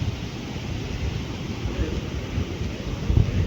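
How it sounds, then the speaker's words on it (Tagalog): Sea waves washing onto a shore, a continuous rough rushing noise with irregular low surges and wind-like buffeting, close and moderately loud throughout. "Ari po ang dagat."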